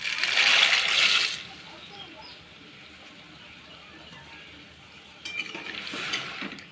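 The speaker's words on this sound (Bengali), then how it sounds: "পাস্তাগুলো দিয়ে হালকা করে নেড়ে নিচ্ছি" Pasta stirred in a pot with mustard oil, giving a loud burst of scraping and sizzle at the start, then a quieter stretch and a second flurry of stirring near the end.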